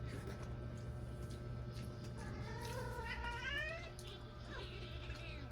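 A cat meows in a drawn-out, wavering caterwaul over a constant low hum and room noise, fairly close, while people eat indoors.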